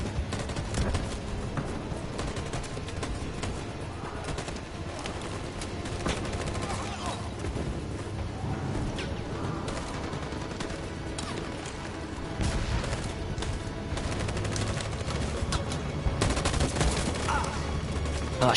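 Sustained gunfire in the Detroit: Become Human video game, dense continuous shots and bursts with crashes and booms throughout, loud and close, with scattered speech underneath.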